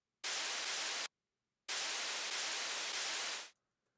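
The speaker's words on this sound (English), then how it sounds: "You have these white noise layers" Two loud bursts of broadband white noise sit in the drop of an electronic track: the first runs just under a second, then a brief gap, then a longer surge of about two seconds that ends in a quick fade.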